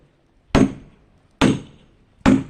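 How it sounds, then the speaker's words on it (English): Three loud, evenly spaced whacks strike a large log being split for milling. Each blow is a sharp impact that decays quickly, with near silence between strikes. "A few more whacks into here, but we can see how it gets on."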